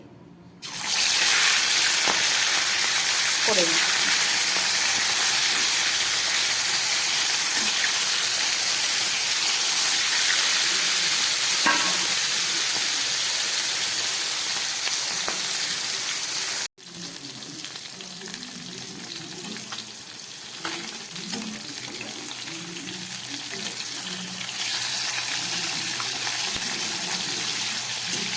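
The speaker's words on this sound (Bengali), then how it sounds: "সর্ষের তেল দিয়ে দিয়েছি তেলটা গরম হয়ে গেছে এবার এই মাছ ভাজাগুলো আমি" Pieces of fish, still very fresh, frying in hot mustard oil in a wok, a loud steady sizzle that fills the whole clip and settles slightly quieter partway through, with brief talk near the end.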